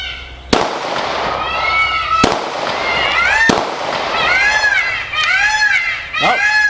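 A 9mm handgun firing down range outdoors produces three loud, sharp reports spaced one to two seconds apart. Brief chirping and voice-like sounds fill the gaps between shots.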